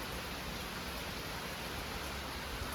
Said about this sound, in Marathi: कंटिन्यू पाऊस पडता